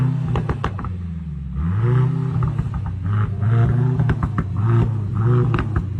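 A four-cylinder Mercedes-AMG C63 engine revs repeatedly, its pitch rising and falling in close, loud roaring pulls with brief crackles between revs.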